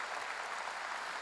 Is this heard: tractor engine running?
no